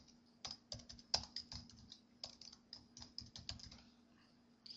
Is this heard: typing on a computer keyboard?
yes